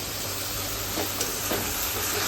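A pan of prawn and bhola fish jhal, a dry, spicy curry, sizzles and fries with a constant close hiss, with faint stirring scrapes and no talking.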